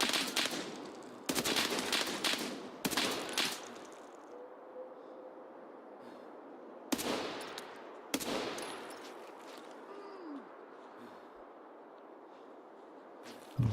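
Gunfire in the shooter game Escape From Tarkov: short bursts of loud automatic shots with sharp starts, then gaps and a few later single bursts fading into echoing quiet.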